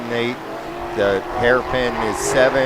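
Race cars at Sebring accelerate through turn 7 toward the hairpin during a Turkey Trot race. Their engines swell and fade in several overlapping waves at mid distance, under steady commentary.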